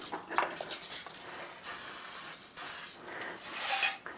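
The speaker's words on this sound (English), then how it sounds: "with our magic canola spray." Canola oil cooking spray hisses from a can in a kitchen while a berry tart is prepared, several distinct sprays of about a second each, close and loud, separated by short pauses.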